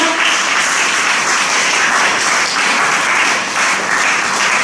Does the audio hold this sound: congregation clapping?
yes